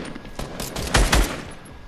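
Burst of rapid gunfire in a squad battle royale video game, with a cluster of loud shots in the middle and scattered quieter shots around it, no voices.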